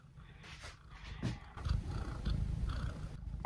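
A cat purrs close by in a steady, soft rumbling rhythm, quiet and alone with no talk over it.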